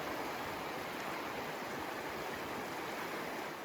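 A river stream runs beside a bank at an outdoor filming location, giving a steady, even rush of flowing water with no talking.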